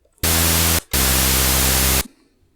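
On a SONICWARE Liven Bass&Beats synth, the noise oscillator plays two loud, flat bursts of white-noise hiss, one short and one longer, separated by a brief gap, with no voice over them.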